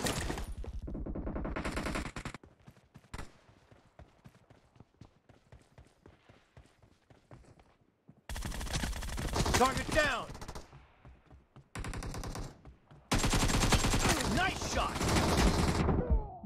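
Single-fire gunshots in the battle royale game PUBG, played on an emulator, crack out as loud separate bursts at the start and in several loud clusters later, with a quieter stretch of faint clicks between.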